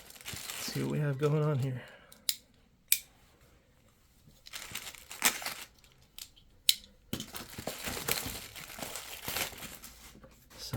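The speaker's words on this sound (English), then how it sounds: "Cut into this bag and" A plastic bag on an unboxing desk is cut open and handled, giving sharp snips and crinkly rustling bursts between stretches of a man's nearby speech, with brief loud crackles scattered through.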